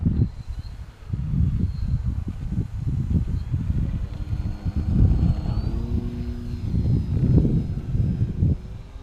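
An E-flite DHC-2 Beaver RC model airplane flies on a windy day, its small electric motor buzzing faintly in the distance while loud wind gusts rumble across the microphone.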